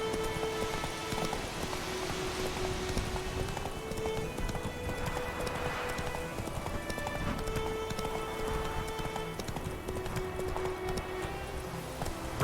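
Roach the horse galloping through rain in The Witcher 3, steady rhythmic hoofbeats over a constant hiss of rainfall, layered with a game music bed, no speech.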